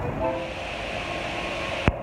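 Steady rail-station hum with a faint low rumble and distant tonal whine at a Lyon train station, then a brief sharp click near the end; no voices.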